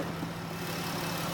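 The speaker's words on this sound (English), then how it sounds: "V6 engine." A 2017 Dodge Grand Caravan SXT's 3.6 liter V6 idles with a steady, quiet low hum that holds unchanged and close, with no voices over it.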